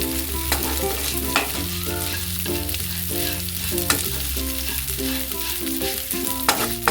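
Vermicelli is lightly roasted and stirred in a pan for semiya kesari, a loud continuous sizzle with regular scraping strokes and occasional sharp clinks over steady background music.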